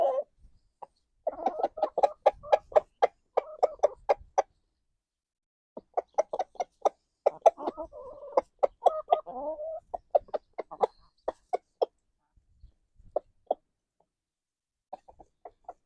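Backyard chickens cluck in their coop, close and clear, in bursts of repeated clucks and a few drawn-out squawks with brief quiet gaps between them.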